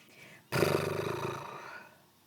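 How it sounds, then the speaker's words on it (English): A sudden, breathy exhale rushes out and tapers off over about two seconds, a relaxed horse's long sigh, close by. "get ready for more relaxed horse sighs from your horse."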